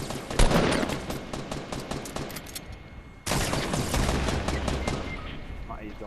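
Gunfire in Fortnite, rapid volleys of shots crackling close and loud, a short lull, then a second sustained burst of firing.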